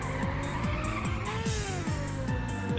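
A fast car in Ridge Racer Type 4 drifts through a corner with continuous loud tire squeal over a revving engine with repeated rising gear-shift sweeps, steady and close.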